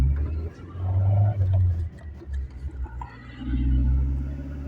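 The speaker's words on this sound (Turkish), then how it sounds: "Evet aracımız çalıştı yerinden hareket ettik." A 1996 Tofaş Şahin car with low mileage starting and pulling away, its engine rumbling and revving low and steady close by while a voice talks over it.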